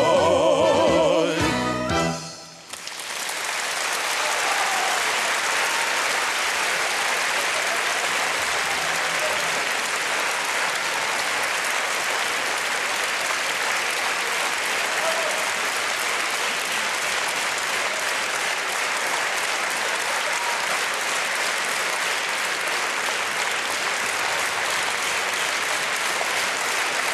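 An audience breaks into loud, sustained applause after a live performance of a song. The final musical notes cut off after a couple of seconds, then dense, steady clapping fills the rest of the clip.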